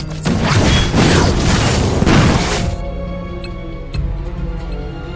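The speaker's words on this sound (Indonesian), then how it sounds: "ledakan dahsyat yang terjadi pada semua PC yang mereka gunakan" A loud, dense blast from computers exploding in a film scene, a broad roaring burst for nearly three seconds that decays into ringing debris and clatter, with a sharp thud near the end.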